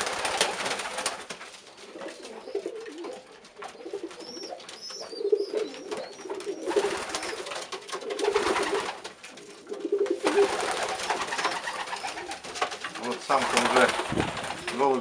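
Pigeons feed while their chicks grow nearby, giving soft, repeated cooing and rustling at close range throughout, with brief background sounds between the calls.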